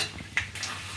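Peanuts stirred and dry-roasted in a pan, giving a short scraping rattle with a faint sizzle, close and alone.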